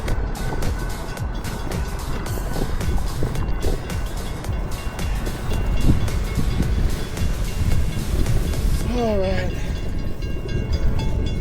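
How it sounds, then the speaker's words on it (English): A Cotton Belt line train rumbles past nearby a trail with clattering wheels and rolling noise, and a short rising-and-falling horn sounds near the end. "Trains are coming."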